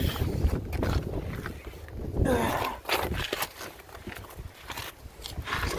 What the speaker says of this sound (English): And it's really windy right now.